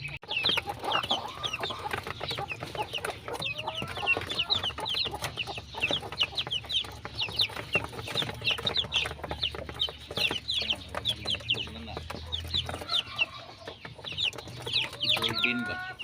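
Young chicks and hens kept under a heat lamp fill the space with constant high peeping and soft clucking, many birds at once, steady and close throughout with no talk.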